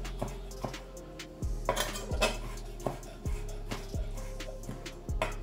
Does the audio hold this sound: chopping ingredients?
yes